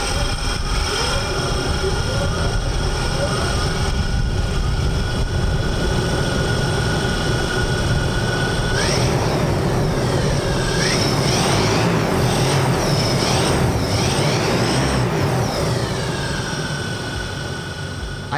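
A personal flying machine lifts off and hovers, its loud, steady mechanical whine and roar running the whole time, with rising and falling tonal sweeps as it manoeuvres close by.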